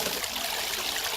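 Spring water piped downhill trickles steadily into a natural ecological pool, a continuous close bubbling and splashing stream with no other sounds.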